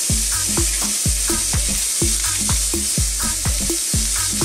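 A beef steak sizzles in a pan with butter after being flipped, a constant loud close hiss running beneath a steady, regular thumping beat.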